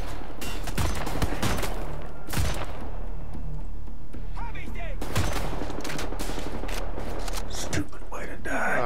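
Sniper rifle gunfire in Wolfenstein The New Order, loud sharp shots in bursts, with a steady run of cracks in the middle, heard over constant game noise and someone talking.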